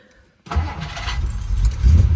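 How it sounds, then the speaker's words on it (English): A 1958 Plymouth Belvedere with a 361 big block V8 starts cold after a quiet key turn, the engine catching abruptly and settling into a loud, rumbling idle close by. "start it right up, you hear it?"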